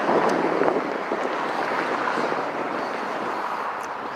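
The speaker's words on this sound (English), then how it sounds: "it's kind of windy today." Wind blows outdoors in a steady, loud rush, buffeting the microphone with a broad roar and no voices.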